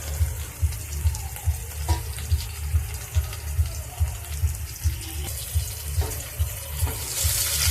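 Tomato dropped into a pan of potatoes already fried golden, with a steady crackling sizzle and soft rhythmic stirring or scraping throughout, louder hiss near the end.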